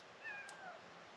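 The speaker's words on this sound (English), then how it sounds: "Meow. Kitty, kitty." A cat meows a few times in short, rising and falling calls, moderately close over a quiet room background, with no talking.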